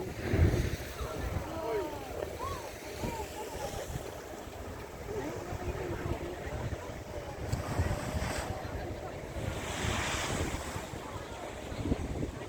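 Pacific Ocean waves surge and wash through the Kiama blowhole on the NSW coast, a steady rushing roar mixed with strong wind buffeting the microphone, with people talking faintly now and then.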